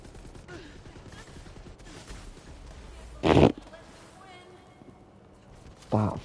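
SMG gunfire in Borderlands 3, two short loud bursts of rapid shots, near and sharp, separated by a few seconds of quieter game ambience with a voice talking underneath.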